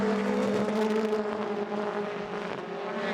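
BTCC touring cars race at Donington Park in 2016, loud engines roaring and droning together near the track, the pitch shifting slightly as the cars pass.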